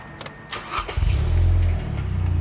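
A Mazda Miata engine cranks briefly and catches, then settles into a loud, steady low idle close by, with a few small clicks just before it starts.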